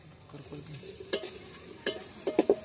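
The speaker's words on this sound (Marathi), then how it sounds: "थोडं पीठ टाकून हलवत" Flour is stirred into a sizzling egg curry in a pan, with a soft fry hiss under a few sharp scraping clacks of the spoon near the end, close and fairly quiet.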